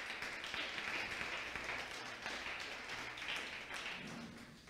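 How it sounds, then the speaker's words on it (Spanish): Steady applause from a church congregation fills the room at a fairly low level, continuous and even throughout with no voices standing out. "Den un fuerte aplauso a los que nos siguen por las redes sociales"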